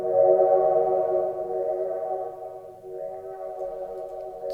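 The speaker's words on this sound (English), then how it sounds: "Turn up the reverb." A held synth chord processed by an audio plugin with the reverb turned up, ringing steadily with a washed-out tail, moderately loud and without voices.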